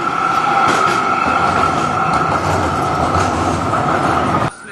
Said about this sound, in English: you'll see another shot of Brunswick Street here as the tram goes by